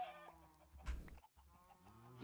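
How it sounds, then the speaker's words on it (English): A Minecraft chicken gives short clucking squawks as a player punches it, a few quick close bursts over quiet game background with no talking. "I just hit a chicken and instantly killed it."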